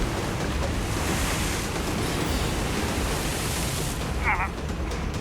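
Ocean waves crash and surge against a jagged rocky shoreline, a steady loud wash of broadband surf with wind buffeting the microphone, continuous throughout with a brief brighter splash near the end.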